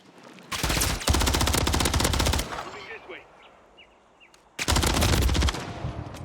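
Rapid machine-gun gunfire from a Call of Duty gunfight, loud dense bursts in two long runs separated by a quieter stretch of scattered game effects.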